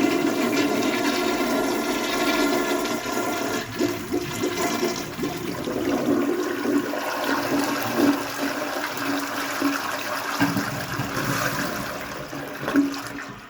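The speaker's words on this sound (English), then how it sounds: "what I can do now is I can do weaker flushes, and it's also so it isn't like as strong" High tank toilet flushing at reduced pressure, a continuous rushing of water that holds steady and loud for the whole stretch, then tapers slightly with gurgling near the end.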